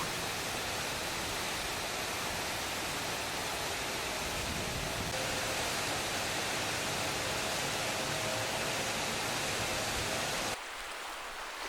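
Waterfalls at Anse-des-Cascades on La Réunion pour down in a steady, dense roar of rushing water, broadband and unbroken, that ends abruptly in quieter surroundings near the close.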